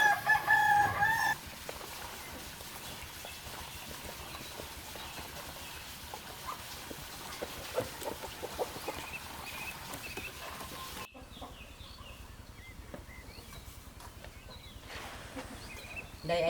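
Black chickens in a coop on a barren rocky plateau cluck and a rooster crows, a busy mix of fowl calls at moderate distance, with a cleaner, quieter stretch near the end and no talk.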